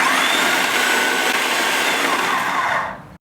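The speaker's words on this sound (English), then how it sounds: "Get it blended." Blender whirring steadily at high speed, puréeing red peppers, garlic, chilies, olive oil, vinegar, salt and brown sugar, loud and continuous for about three seconds before cutting off abruptly.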